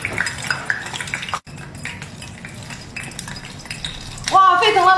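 Soybean worms fry in a pan, with a utensil stirring and scraping against metal and clattering over a low bubbling sizzle. A louder burst of activity comes near the end.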